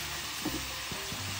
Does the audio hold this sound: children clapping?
no